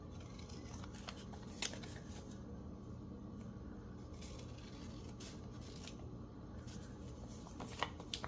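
Scissors trimming the edge of a paper book page for a journal tag, a string of faint quiet snips and paper rustles spread over several seconds, with no talk.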